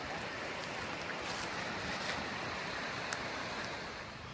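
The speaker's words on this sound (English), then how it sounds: "Creek." A creek on a Mt. Wilson hiking trail gives a constant, fairly close rushing and burbling of flowing water. A few faint clicks sound over it and nobody talks.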